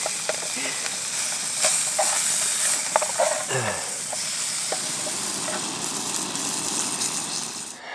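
Fish, caught that day, frying in a very small pan at a remote Kaldoaivi wilderness campsite in Lapland, giving a steady close sizzle and hiss with a few light clinks and scrapes of utensils, no voices.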